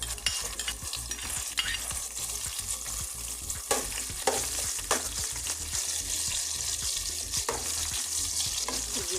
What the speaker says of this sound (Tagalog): Igisa lang natin hanggang maglambot or lalabas na yung kanyang aromatic smell